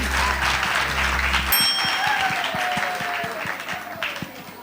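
A crowd bursts into steady applause right after a short moment of voice, clapping continuing evenly at moderate loudness.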